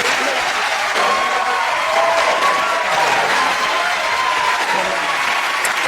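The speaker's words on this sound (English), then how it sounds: "cheers and applause to our winners" A television comedy panel-show studio audience cheers and applauds the winning team, a dense, loud and steady roar of clapping and cheering with no speech.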